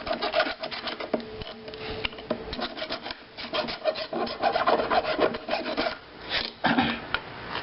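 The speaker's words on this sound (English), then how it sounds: "now I'm going to trim with the cutters, the shears, the metal shears." Metal shears trimming metal on a torchiere floor lamp during a repair, giving close, repeated rasping and scraping cuts in an irregular rhythm, moderately loud with no talk.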